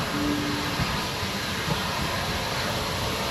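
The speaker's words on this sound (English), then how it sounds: "Well, with Archibald suitably connected up, I'm getting onto the train and we're going to head on down to Kingscote." A heritage steam train runs on the Bluebell Railway toward Kingscote, heard from aboard as a loud, steady rumble and hiss with a brief whistle-like tone early on.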